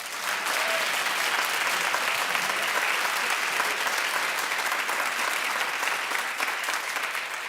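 A studio audience on a daytime talk show breaks into loud, sustained applause, a dense wash of clapping that holds steady throughout.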